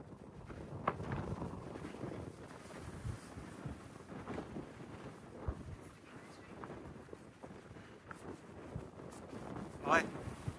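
Gusty outdoor wind buffets the microphone near the Prince of Wales site in Canada, producing low rumbling bursts that swell and fade irregularly, with a voice speaking faintly underneath.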